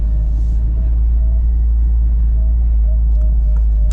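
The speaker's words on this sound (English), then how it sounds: "So that's downshifting for power. Downshift for this turn right here." Manual-transmission car engine rumbling steadily from inside the cabin during a downshift for a turn, low and continuous with faint background noise.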